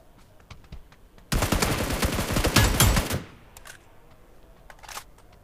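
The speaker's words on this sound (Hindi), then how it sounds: "और तो पीछे से फायर आता है।" Rapid automatic gunfire from behind in the mobile battle royale game PUBG New State, a loud sustained burst of about two seconds followed by a few scattered single shots at a distance.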